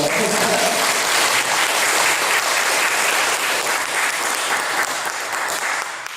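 Sustained applause from a large church congregation during a sermon, steady and dense throughout, tapering slightly toward the end.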